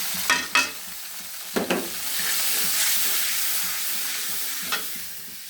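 Whole spices and ground spice paste frying in hot oil in a pan, a steady sizzle rising and settling, with a few sharp spoon scrapes and clinks as the mix is stirred up close.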